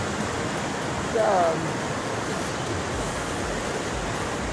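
Floodwater rushes through a village during heavy rain, a loud, steady broadband roar of flowing water, with a brief spoken word partway through.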